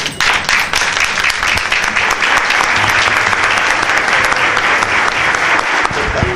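A lecture audience applauds Dr. García with loud, dense, steady clapping that fills the whole stretch without pause.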